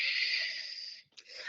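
A slow nasal exhalation during a breathing exercise, a loud, close, airy snore-like rush lasting about a second, briefly breaking off before a softer tail of breath.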